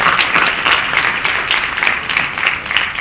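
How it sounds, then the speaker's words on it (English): A crowd of audience members at a talk gives a sustained round of applause, with dense, even clapping that stays loud and steady for the whole stretch. "let's just give them a round of applause for the awesome stuff they're doing"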